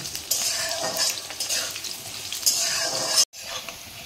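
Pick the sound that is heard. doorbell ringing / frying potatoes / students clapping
frying potatoes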